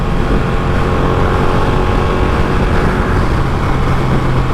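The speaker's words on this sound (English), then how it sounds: "this bike is very loud and it's a lot of noise" A 2017 Ducati Panigale 1299 motorcycle engine running very loud and close, a dense, steady roar with no breaks and no talk.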